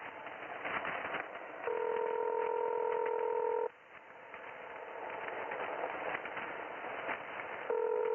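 A telephone ring tone sounds on an outgoing call to San Juan, Puerto Rico, two steady tonal bursts separated by a pause, heard over a faint line hiss with no talking.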